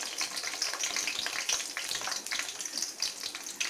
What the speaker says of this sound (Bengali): এইটা কিন্তু একটু ভালো করে ফ্রাই হতে দেবো ফ্রেন্ডস